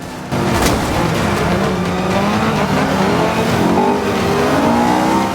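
A race car in the Forza 5 video game brakes hard into a hairpin and then accelerates out, its engine note climbing loud and continuous with brief tire squeal.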